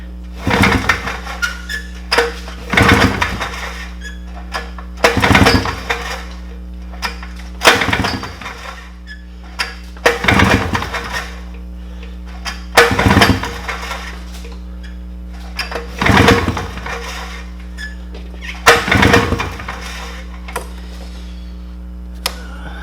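A 1997 Polaris Trailboss ATV engine pulled over by hand with the throttle open for a compression test, about eight evenly spaced cranking bursts, each a short rasping churn, with a low hum between them.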